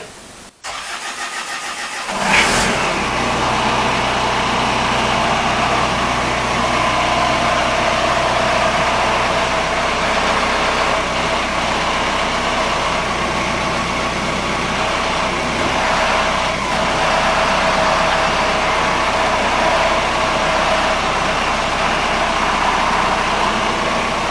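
A Bobcat Hytrack 1760 skid steer diesel engine cranks briefly, catches and starts after air was bled from its fuel system, then settles into a steady, loud rumbling idle that runs on without talking.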